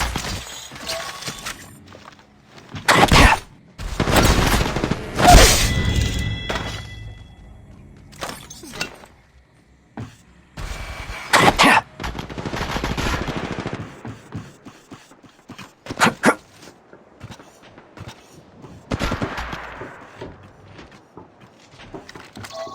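Gunfire in the mobile game Apex Legends Mobile, heard as several loud bursts of rapid shots separated by quieter gaps, with crackling impact and shattering sounds mixed in.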